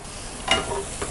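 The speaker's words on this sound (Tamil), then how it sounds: "வெஜிடபிள்ஸ் வந்து ஒரு 2 நிமிஷம் வதங்கினதுக்கப்புறம் இந்த மாதிரி வதக்கிக்கோங்க" Mixed vegetables and capsicum stir-fried in a pan for veg fried rice, with a soft continuous sizzle and a brief scraping stir near the middle, close by and without talk.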